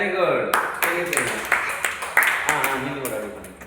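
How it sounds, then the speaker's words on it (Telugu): Children in a classroom clap together in a short burst of sharp, fairly regular hand claps, with a teacher's voice and classroom chatter running beneath. "అభినవ్ క్లాప్స్ కొట్టాలి"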